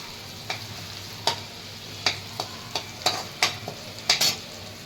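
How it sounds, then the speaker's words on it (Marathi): Curry leaves fry in hot oil over medium heat for misal, a soft steady sizzle punctuated by about a dozen sharp spatter pops and spoon taps at an uneven rhythm, close by and unaccompanied by speech. "त्यामध्ये थोडासा कढीपत्ता टाकून घ्यायचा."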